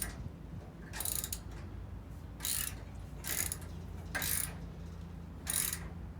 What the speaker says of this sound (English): So the wrench we're gonna put on the one side, and the socket we're gonna put it on the other side.